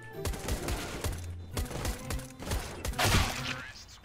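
Enemy gunfire in a first-person shooter game, several rapid bursts of automatic shots with sharp cracks and thumps, irregular in rhythm and close, with a denser volley near the end.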